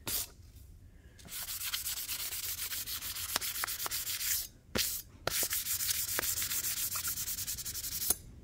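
Hand sanding a stiletto knife by hand produces a steady, close rasping rub in long continuous strokes, broken by a few brief pauses, with no voices.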